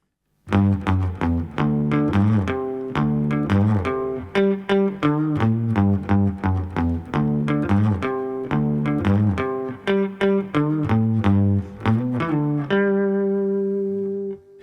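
A distorted electric guitar plays a quick run of single notes, then holds a final ringing note.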